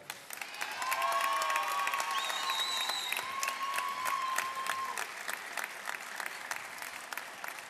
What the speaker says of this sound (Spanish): le damos un aplauso a los representantes de la Universidad Tecnológica